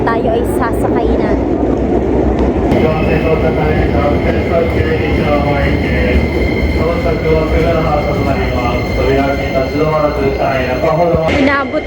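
Steady rumble and rattle of a train riding from Narita Airport toward Asakusa in Tokyo, with wheel and motor hum throughout and a thin high whine, with people talking in the carriage beneath.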